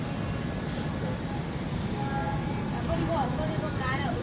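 A passenger train crossing the bridge over the Krishna River at Vijayawada, heard from inside the carriage as a steady low rumble and rattle, with voices talking over it throughout.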